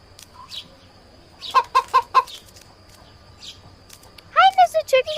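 Chicken clucks from the video game I Am Cat, a run of four short evenly spaced clucks midway, then a louder cluster of clucks at the end, with a faint background hum and brief sounds between.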